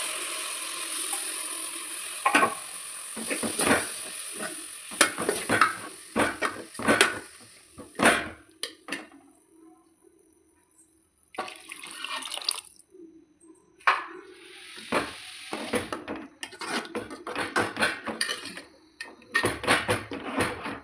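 Eggplant tamarind curry being stirred in a pan, with repeated spoon scrapes and clinks in uneven bursts, loud and close, and short pauses between the stirring strokes.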